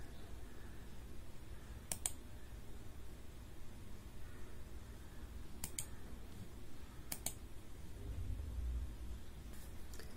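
A computer mouse being clicked in a Windows 10 setup to open Postman: a few sharp, isolated clicks spaced seconds apart over a steady faint background hiss, close and quiet, with no talking.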